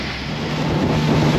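Strong wind roars steadily across open water while boating in old rice-field canals on the Cooper River in South Carolina, a loud, continuous rush buffeting the microphone with no talking.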